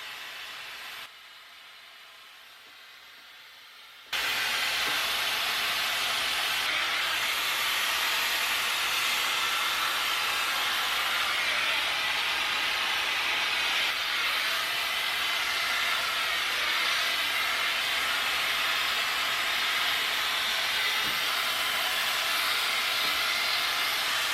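A hair dryer blows steadily at close range during a brush blowout, a loud, continuous hiss that starts after a few quiet seconds and holds without pause.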